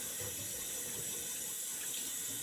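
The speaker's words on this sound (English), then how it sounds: "once again, do that warm water wash for me" Warm tap water pours and splashes while shaving soap is washed off a face at a sink, a dense, steady, close rushing flow throughout.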